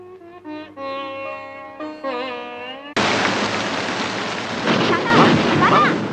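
Heavy rain begins abruptly and keeps up a dense, steady hiss, with low thunder rumbling through the downpour. A stretch of music plays before the storm noise starts.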